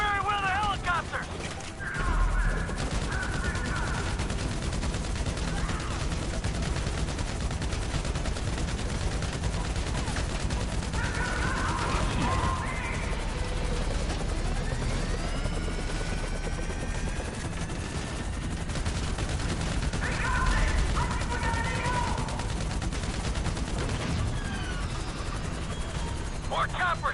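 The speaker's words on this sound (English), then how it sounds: "Some more Merryweather helicopters!" Gunfire and Merryweather helicopters in the video game GTA: a constant dense wash of engine and rotor noise with scattered shots throughout, under an excited voice talking at intervals.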